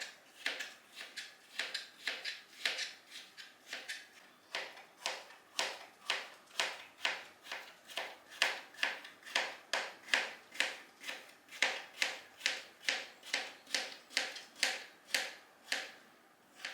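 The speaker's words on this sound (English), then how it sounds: "And now I'm just going to slice up this cucumber" Knife slicing through a cucumber on a cutting board for a cucumber salad, a long steady run of close, crisp chopping strokes about one per half second, alone without talk.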